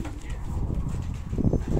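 Armenian pigeons murmur low, soft coos in a continuous rolling burble close by, with faint outdoor background noise.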